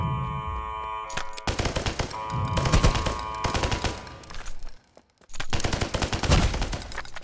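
Bursts of rapid automatic gunfire from a gun with heavy recoil in the mobile shooter game Lost Light, at the BAF Factory map: loud repeated volleys separated by short pauses, with a brief near-silent gap before a final burst.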